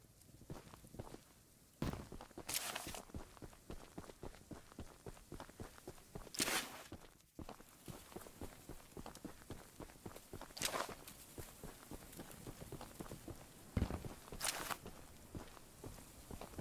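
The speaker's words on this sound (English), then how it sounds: "My footsteps are so loud, it sounds like the train." Heavy player footsteps in the video game Choo Choo Charles thud in a steady walking rhythm, close and prominent, with a few louder bursts of noise breaking in, and no talk.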